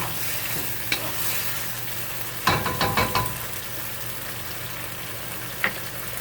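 A basil eggplant stir fry with crushed red pepper sizzles steadily in a pan while a spatula scrapes and stirs in a quick cluster of clacks, with a couple of lone taps before and after; no voices.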